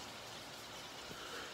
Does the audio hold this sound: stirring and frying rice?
no